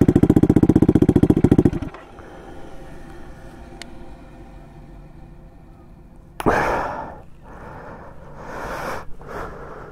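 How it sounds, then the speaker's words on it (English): A turbocharged Honda Grom with a CBR engine swap and an eBay KO3 turbo sits warming up, first a loud, rapid pulsing engine note for about two seconds, then a quieter steady idle hum with a sharp whoosh of spinning turbo and gusty noise later. "I'm just going to sit down here and warm up for a second. The turbo is just spinning away."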